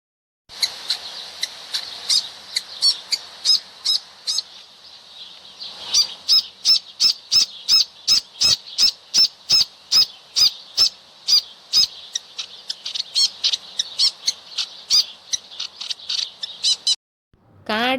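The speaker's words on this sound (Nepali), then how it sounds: "मारुनी चरा।" Maruni chara bird calling in a long series of sharp, evenly spaced notes, steady and fairly close, with a short pause partway through before the rhythmic calls resume.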